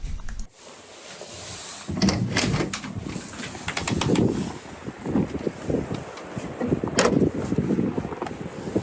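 Wind blowing outdoors, buffeting and rumbling against the microphone in uneven gusts, close and fairly loud throughout with no voices.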